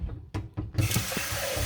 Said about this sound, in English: I need to add a little bit of water.